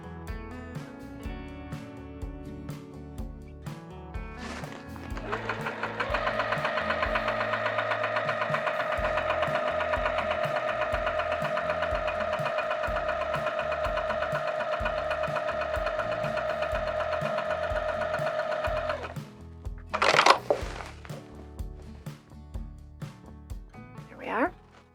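Sewing machine stitching through quilted vinyl, a steady mechanical whir starting around five seconds and running continuously for about fourteen seconds before stopping, followed by a couple of sharp handling clacks, with light background noise throughout.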